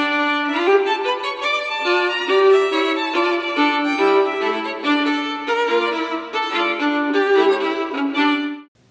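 Two violins playing a duet together, melody over accompaniment, with fast, accented, rhythmically unsettled notes in dense continuous bowing, close and bright, stopping abruptly at the end.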